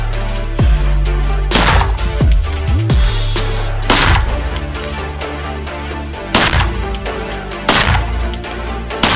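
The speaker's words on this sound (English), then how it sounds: "So he grabs the gun, he's safe, and then he shoots." Sharp gunshots fired during a tactical kettlebell drill for military and law enforcement operators, loud cracks spaced irregularly over several seconds, some in quick pairs, with echoing tails and a low thump in between.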